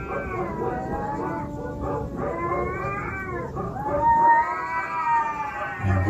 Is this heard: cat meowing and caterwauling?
yes